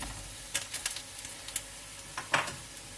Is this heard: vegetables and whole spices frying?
yes